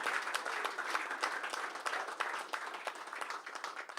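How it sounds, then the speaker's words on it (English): A press-conference audience breaks into a big, steady round of applause, many hands clapping densely and evenly for several seconds with no voices. "a big round of applause, ladies and gentlemen"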